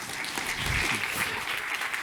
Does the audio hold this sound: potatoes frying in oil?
no